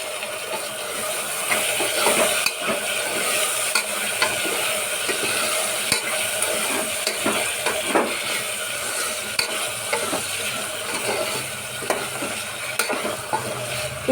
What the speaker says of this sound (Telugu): ఈ క్యారెట్ని, ఆలుని ఆయిల్లో బాగా ఉడకనివ్వాలి